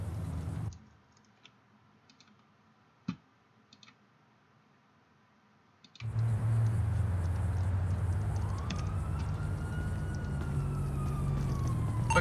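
A police siren wails in a GTA roleplay game, rising and falling over engine noise after a stretch of quiet keyboard typing and mouse clicks.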